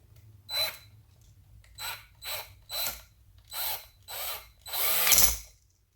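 A power drill whirs in seven short bursts, tightening a screw on an electrical outlet, each revving briefly then stopping, the last burst longer and strained, with quiet pauses between.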